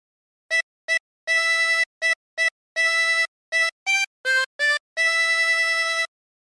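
Jingle Bells played on a 16-hole tremolo harmonica, a clear solo melody of reedy, wavering notes in short and held groups, close and bright with no other sounds.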